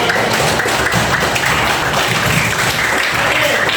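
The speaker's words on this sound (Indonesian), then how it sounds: "Tepuk tangan untuk kita semua" Dense, steady applause fills the room at a teaching workshop, loud and continuous throughout with no pauses.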